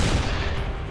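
A sniper shot fired in the artillery video game Shellshock Live, a single loud, dense boom with a rumbling tail that fills the whole second, close and alone with no voices.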